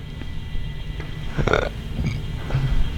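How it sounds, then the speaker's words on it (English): A short, throaty burp rumbles out in the middle over a quiet background, with a softer gurgle following a moment later. "Did you just burp?"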